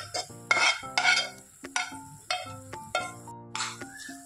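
Ketchup and scrambled egg being stirred into noodles, a series of scraping, clacking utensil strokes against the pan in an irregular rhythm, close and moderately loud, with no talking.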